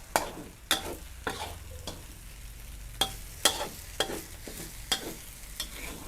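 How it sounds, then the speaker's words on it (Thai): Glass noodles stir-fried in a pan sound like a low steady sizzle, broken by sharp regular scrapes and clacks of the spatula roughly every half second to second, close up with no voices. "คั่วบุนเส้น ต้องแห้งแห้งแห้งอร่อยอย่าให้เป็นแฉะ"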